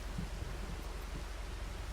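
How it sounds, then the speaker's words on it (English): Steady hiss of rain in a farming video game, a continuous even wash of noise with a low rumble underneath, moderately quiet and unbroken with no voices. "It's raining."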